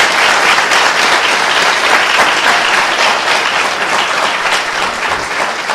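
Church congregation applauding loudly and steadily, a dense continuous wash of many hands clapping that fills the room for several seconds without a break.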